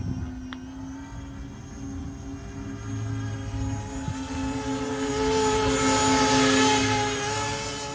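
An E-Flite Convergence VTOL model aircraft hovers on its electric motors, giving a continuous high whine with a steady buzzing drone that grows a little louder toward the end.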